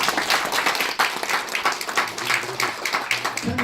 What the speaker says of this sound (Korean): 이 두 분에게 박수 한번 보내주세요.